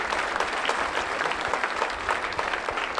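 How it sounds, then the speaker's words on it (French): Audience applause at a French political campaign meeting for a parliamentary constituency, steady dense clapping from a crowd lasting the whole stretch, fairly loud and without speech over it. "Donc on vous applaudit également."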